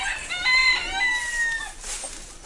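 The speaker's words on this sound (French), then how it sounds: "le seul grand coq de la case" A large rooster in its pen gives a drawn-out crow of rising and falling tones at moderate distance, with faint background noise.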